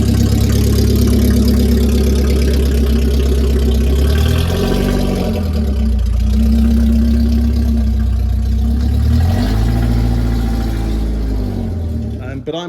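A BMW E36 with no catalytic converter runs very loud and close, a deep steady engine drone whose pitch rises and falls in slow swells of revving over about twelve seconds.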